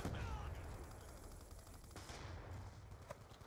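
Rapid bursts of An-94 assault rifle fire in Black Ops 2, quiet and somewhat muffled, crackling almost continuously through the short stretch.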